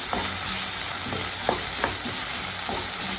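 Ingredients for Trivandrum chicken fry are stirred in a hot pan after salt goes in, giving a steady soft sizzle broken by light scraping strokes of the spoon, heard close with no voices.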